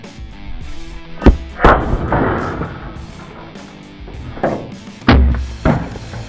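An M79 grenade launcher fires a chalk round with a sharp, loud report, followed by several more thumps and impacts echoing around the space over a few seconds.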